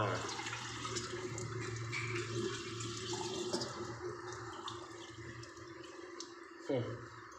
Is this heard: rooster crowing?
no